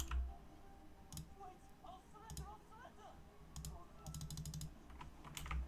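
Typing on a Razer BlackWidow Chroma keyboard, with bursts of quick clicky keystrokes close by, mixed under game sounds and some talk.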